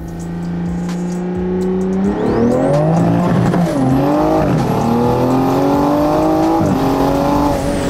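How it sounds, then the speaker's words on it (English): A big-turbo Toyota A90 Supra with a B58 engine accelerating hard in first gear: loud rising engine note with rapid revving, turbo whine, and a brief tire squeal, close and alone. "we're rolling into first gear"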